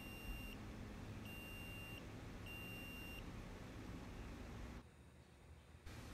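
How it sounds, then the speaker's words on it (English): An Auber WiFi BBQ controller for a Weber Smokey Mountain sounds its step-finishing alarm: three evenly spaced, clear electronic beeps over a steady hiss of background noise. "Now I will demonstrate what the step finishing alarm sounds like"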